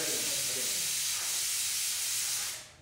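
A pressure cooker of curd rice for a festival offering vents steam in a steady, loud broadband hiss that runs for nearly three seconds before tapering off.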